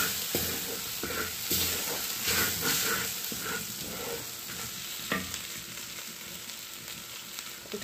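Chicken curry with green pepper sizzles and hisses in a pan as turmeric is stirred in, with scraping strokes over a continuous frying hiss, close and alone.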